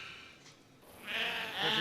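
A sheep gives a bleat, wavering at first and then swelling into a louder, nearer call near the end.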